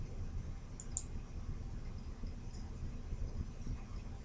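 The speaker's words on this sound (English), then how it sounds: "And then you would go ahead and click on Save." A computer mouse clicks on a Save button in school counseling software, a couple of sharp, close clicks near the start over a steady low background hum.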